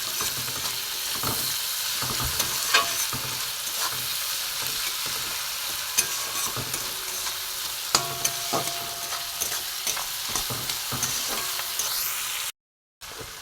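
Onion and tomato frying in a pan with a little salt, giving a steady close sizzle with repeated stirring scrapes throughout, cutting off abruptly near the end.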